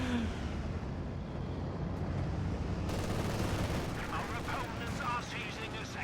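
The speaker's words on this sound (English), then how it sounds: "At least this machine gun is spread out, so it's one at a time" Machine gun fire in a competitive strategy video game match, a continuous faint rattle of gunfire and battle noise with rapid clustered bursts, sitting low in the mix.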